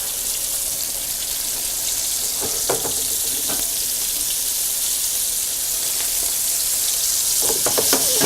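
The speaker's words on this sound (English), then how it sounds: "That's why that's sizzling like that." Fatty meat sizzles loudly in a frying pan, a dense steady hiss with scattered crackles and pops close by, no talking.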